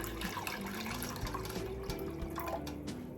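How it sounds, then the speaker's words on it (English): Water runs steadily into a cooking pot for boiling green bananas, a faint, continuous splashing trickle with a few drip-like plinks, heard alone in a quiet kitchen. "So it's time to add water to the pot"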